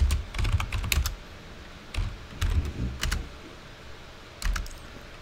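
Typing on a computer keyboard while working in a Windows command prompt during an ESP-IDF install, with short bursts of clicky keystrokes separated by pauses, close and fairly clear.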